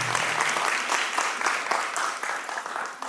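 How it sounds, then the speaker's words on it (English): Audience applauds at the end of a university faculty debate, a steady burst of clapping from a crowded room that continues throughout. "One more round of applause for everyone."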